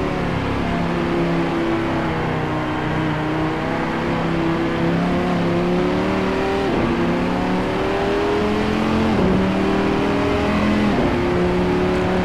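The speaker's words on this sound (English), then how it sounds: "Ronnie Nunez out here with us at the Nordschleife circuit, driving the Dodge Viper SRT" A Dodge Viper SRT race car screams around the Nordschleife in a racing game. The loud, sustained engine drone climbs in pitch, then dips briefly at several gear changes.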